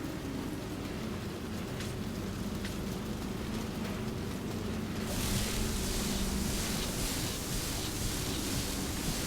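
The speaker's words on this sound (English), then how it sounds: "it's raining because it's on the surface of the planet" Steady rain falling on the planet surface in Metroid Dread, a continuous broadband hiss that grows slightly louder and brighter about halfway through, heard alone without speech.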